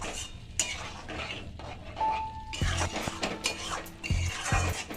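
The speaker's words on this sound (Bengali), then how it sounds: "এগুলো দিয়ে আমি সামান্য একটু জল দিয়ে আর একটু কষিয়ে নেব এটা খুব ভালো করে কষিয়ে নেব" A spatula scrapes and clinks against a pan as cumin-spiced masala paste with a splash of water is stir-fried for an egg omelette curry, repeated close metallic knocks over a faint sizzle.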